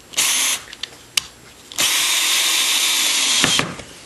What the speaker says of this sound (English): now I'm just going to screw the whole thing down so that it all stays stationary